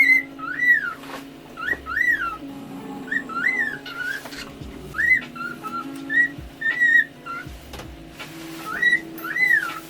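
A male cockatiel whistles a tune in repeated rising and falling phrases with short pauses between them, clear and fairly close, over a faint room background.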